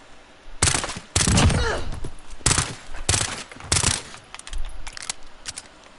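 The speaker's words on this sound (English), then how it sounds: "this burst pistol is like a fully automatic sniper rifle." Burst pistol fire in Call of Duty MW: several sharp, close bursts of rapid shots separated by short pauses, with fainter shots and clatter between them.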